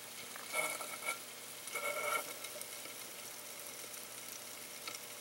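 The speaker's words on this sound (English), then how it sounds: "the vinegar is actually kind of making a bubbling sound." Vinegar bubbling in a can over rusty metal, a faint fizzing crackle with a few slightly louder bursts early on, steady and close.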